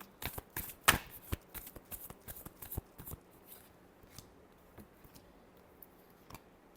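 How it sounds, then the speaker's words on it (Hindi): A deck of cards being shuffled: a quick burst of crisp riffling clicks, then softer scattered taps as the cards settle, in a quiet room. "Last shuffle."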